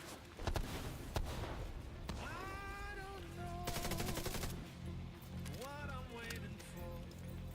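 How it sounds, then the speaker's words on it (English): A turret fires in The Division 2, giving quiet, rapid automatic shots mixed with rising electronic tones and other game effects, all fairly faint. "Ooh, nasty little turret."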